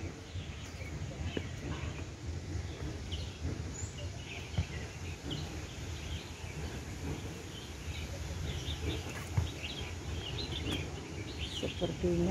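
Birds chirp and tweet in a daytime bird garden at Yuen Long Park, Hong Kong: scattered small calls, moderately distant, over a steady outdoor background with faint activity.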